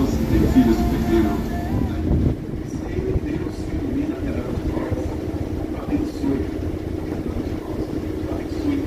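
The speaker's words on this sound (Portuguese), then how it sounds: "E olha o vento, gente, que forte que é!" Strong wind buffets the microphone on the Irmãos Miranda ferry boat travelling the Amazon rivers, a loud, continuous roar over the low rumble of the vessel, with voices briefly audible.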